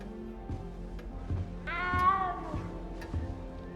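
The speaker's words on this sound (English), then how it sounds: "You don't need to be frightened, little cat." A frightened little cat in Hogwarts Legacy gives one drawn-out, rising meow, clear and close, over soft game ambience with faint rhythmic thuds like footsteps.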